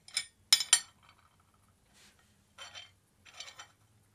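A vintage-style spoon set down on a photo set gives a few bright metallic clinks in quick succession near the start, then softer scattered taps and clinks in an otherwise quiet room.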